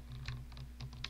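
Keys clack in quick, irregular bursts of typing on a computer keyboard, fairly close and clear against a steady low hum.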